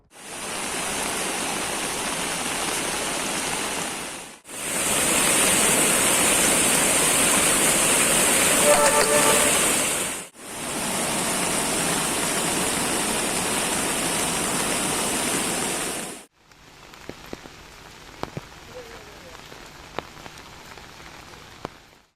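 Loud, steady rushing of the rain-swollen Gangavali River in Uttara Kannada, a broad continuous roar with brief breaks between takes, ending in a quieter stretch with faint scattered ticks.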